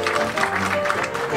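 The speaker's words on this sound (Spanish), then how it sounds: "Fuerte el aplauso para Bobby y el titiritero de Banfield" A crowd gives a steady, dense round of applause for a puppeteer and his puppet Bobby at a farewell show in Banfield. The clapping is continuous and fairly loud for the whole short stretch, with no clear voices on top.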